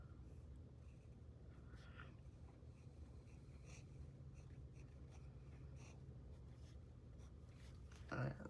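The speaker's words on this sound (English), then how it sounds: "I'm going to go ahead and just write the month here." Pen writing a month name on a paper planner page, a soft continuous scratching of strokes over a steady low background hum, close and quiet, ending in a brief louder rustle.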